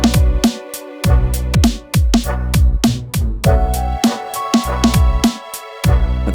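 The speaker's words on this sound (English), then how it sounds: "Let's try out the first fat snare." Fat, punchy snare drum sample from a sample pack playing in a repeating beat pattern with booming low hits, loud and close with no talking.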